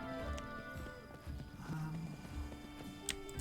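A horse in the video game Pathfinder: Kingmaker clip-clops and snorts over soft background game music, with hoof beats scattered unevenly and fairly close.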